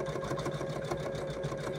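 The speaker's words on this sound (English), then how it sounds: "the machine is going to embroider Merry Christmas across the cuff" An embroidery machine stitching lettering onto a Christmas stocking cuff held in a hoop, a fast, even mechanical whir with a rapid regular needle beat, close and steady.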